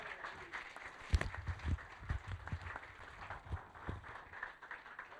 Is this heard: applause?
yes